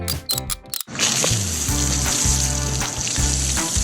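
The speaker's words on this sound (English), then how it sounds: "The sound of rushing water joins a rhythmic dance." Rushing water sprays hard over a family car being washed with sponges. A steady hiss starts abruptly after a short pause, with a rhythmic musical beat running underneath.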